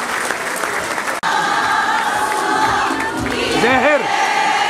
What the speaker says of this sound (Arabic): التكريم غادي يكون مع تصفيحات الجمهور الرائع اللي حضر معنا الليلة بمدينة طنجة